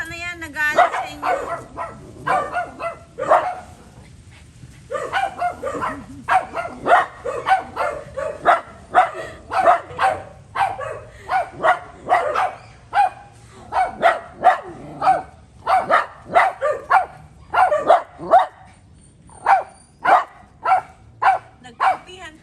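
Several dogs bark repeatedly and rapidly, close by, in sharp overlapping bursts with occasional yips, the barking growing more regular and insistent toward the end.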